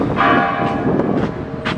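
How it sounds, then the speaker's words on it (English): Church bells ring out in Playa del Carmen, Mexico, their resonant tones overlapping and sustaining, with fresh strikes sounding every half second or so. "Here go the church bells"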